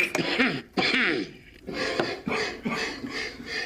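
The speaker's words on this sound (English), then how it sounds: "That's quite a nasty cough." A few harsh throat-clearing coughs come in short bursts, fairly close and moderately loud, with brief pauses between them.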